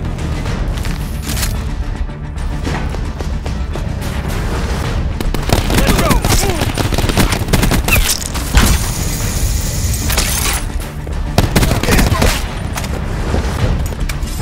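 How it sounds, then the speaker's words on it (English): A Hellstorm missile strike in Call of Duty: Black Ops 4 erupts in loud, dense bursts of gunfire, booms and blasts, with repeated impacts and rattling fire crowding together, and a voice talks over the chaos. "got an inbound Hellstorm missile, man!"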